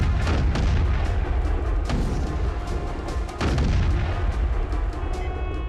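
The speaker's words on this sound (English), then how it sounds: "Commence firing." Naval guns from a film's battle scene fire in repeated heavy booms, loud and rolling, with several sharp blasts spaced across a dense, rumbling background.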